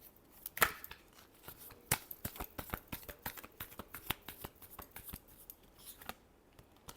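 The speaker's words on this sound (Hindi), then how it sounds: "Last shuffle." Tarot cards are shuffled close up in a quiet room, a quick irregular run of crisp riffling snaps and flicks, some louder than others, with no talking.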